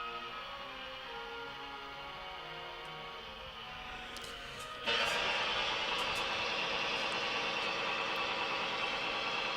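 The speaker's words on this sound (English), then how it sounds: "That's a motor, a compressor turning on. That's why we're getting a bunch of noise." A compressor motor kicks on midway, its electrical interference suddenly raising a loud, steady broadband hiss and hum over the quieter hum of a Hallicrafters S118 receiver under repair, then holding constant.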